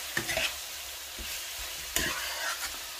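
Food being stirred in a hot pan at a home dinner, a steady sizzle with a few scraping stirs near the start and again around the two-second mark, close and with no talking.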